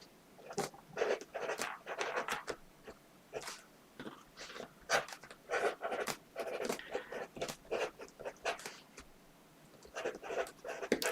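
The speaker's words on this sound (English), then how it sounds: "So I'm going to write it on this piece of paper so you can see it" Pen writing on a sheet of paper, a steady run of short scratchy strokes in quick bursts with brief pauses, close and fairly quiet.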